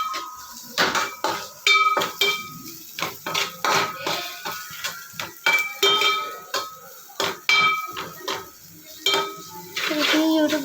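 A metal spoon stirs onions in a pan for tomato egg curry, with repeated clanks and scrapes against the pan in an uneven, busy rhythm. The sounds are close and clear, with no voice over them.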